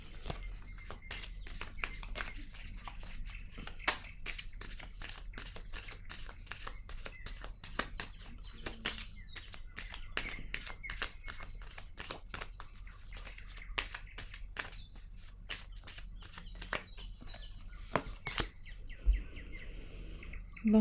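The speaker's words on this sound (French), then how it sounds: "Je vais piger une carte ici." Tarot cards are shuffled and drawn by hand, with a long run of crisp, rapid riffling snaps and flicks close to the mic. The shuffling stops near the end, followed by a soft rustle.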